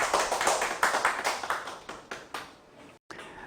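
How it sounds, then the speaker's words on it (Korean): Audience members at a Korean speech lecture clap for the speaker, a run of distinct, fairly quick handclaps that thins out, then cuts off briefly before resuming faintly. "그런 저에게 박수를 아끼시겠습니까?"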